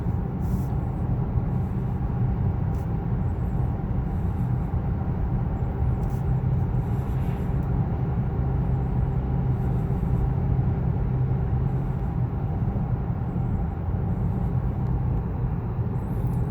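Inside the cabin of a 2021 Honda Accord Sport Special Edition with a 7-speed automatic while driving, a steady low road and engine rumble stays constant and fairly subdued throughout, with no talking.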